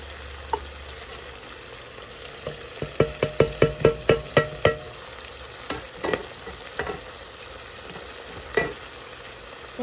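Elephant ear (colocasia) frying in a pan under a constant sizzle, with a quick rhythmic burst of spatula scrapes and knocks in the middle, a few more scattered stirs afterward, and no voices.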